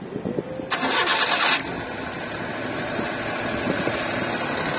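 A 4x4 vehicle's engine cranks briefly after a few soft knocks, catches with a loud burst, then settles into a steady, close idle rumble that runs to the end.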